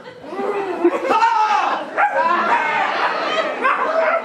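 Dogs barking, yipping and howling, imitated by a storyteller's voice during a live story performance, lively and close, with expressive vocal rises.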